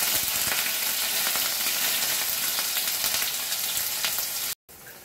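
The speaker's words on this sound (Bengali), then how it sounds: "এবারে এর উপরে পেঁয়াজ বাটাটা দিয়ে দেব" Onion paste frying in hot oil with dried red chillies and bay leaf, a steady close broadband sizzle with crackling spits running throughout before a brief silent gap near the end.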